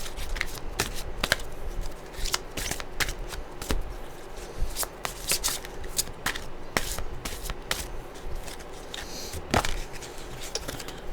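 A deck of oracle cards is shuffled by hand for a weekly reading, with sharp papery riffles and taps coming in irregular bursts over about eleven seconds, close and fairly loud, with no voices.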